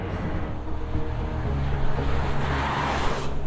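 A Rimac Nevera electric hypercar drives under power, its electric motors giving a low steady hum mixed with wind and road rush, fairly faint and continuous.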